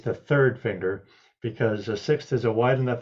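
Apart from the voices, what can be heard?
No distinct noise like a dog, phone or traffic.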